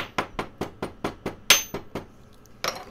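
A chasing hammer strikes a wire tip to flare it out against a hard surface. About ten sharp, evenly spaced metallic taps ring out close and loud, and one brighter clink sounds midway through. A short pause comes before the final blow.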